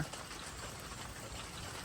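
Rain falls steadily through the night in an open field during a storm, a soft, even hiss that stays faint and unbroken throughout, with no voices.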